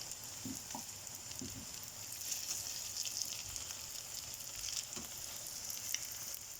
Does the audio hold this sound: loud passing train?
no